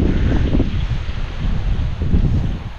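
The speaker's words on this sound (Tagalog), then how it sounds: "Grabe lakas ng hangin, no?" Strong wind gusts roar across an open calamansi farm, buffeting the microphone with a loud, steady rush and rumble that swells and dips for a few seconds.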